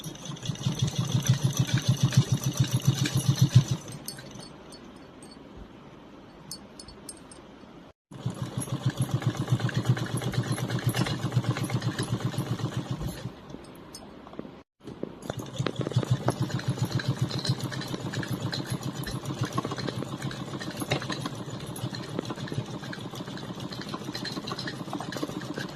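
A sewing machine runs straight stitches on a small doll's dress for Laddu Gopal, a close, rapid mechanical whirring in three long runs separated by brief pauses, with quieter humming between.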